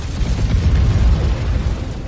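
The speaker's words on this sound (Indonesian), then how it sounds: "Berkat ledakan yang Caesar hasilkan, seluruh benteng perbatasan menjadi hancur berkeping-keping." A fuel tank at a border fortress, struck by a thrown grenade, explodes in War for the Planet of the Apes as a loud, sustained, deep rumbling blast with continuous low roar.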